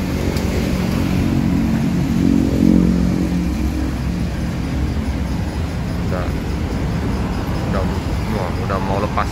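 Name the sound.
Sempati Star bus engine revving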